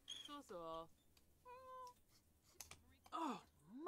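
A cat in The Sims 4 meows repeatedly at a vet clinic, several drawn-out, rising and falling meows with brief clicks between, close and clear.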